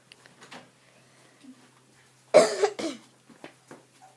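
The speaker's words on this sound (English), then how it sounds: "why don't you go get a cough drop" A child coughs twice in quick succession, close by, against an otherwise quiet room.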